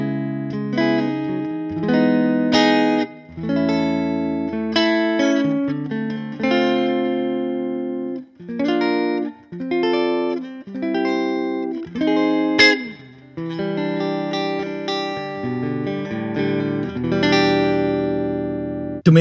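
A distorted electric guitar plays chords and single-note riffs through a Matchless amp simulation in Line 6 Helix Native, with some reverb, steady and loud, with brief pauses between phrases.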